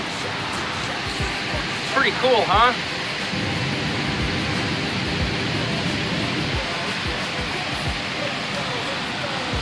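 A waterfall heard from a bike trail in Central New York gives a steady, moderately loud rushing wash of water; someone speaks briefly over it early on.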